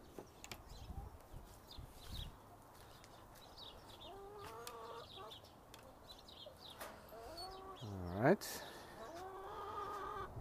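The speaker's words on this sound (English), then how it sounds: "Let's take a quick look at the chickens." Hens cluck and chatter quietly in the background while a person speaks briefly, with one louder squawk standing out near the end.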